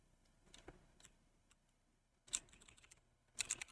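Quiet keyboard typing on a computer keyboard during C programming: a few scattered soft key taps, then two short clustered bursts of clicks, faint and close with no voices.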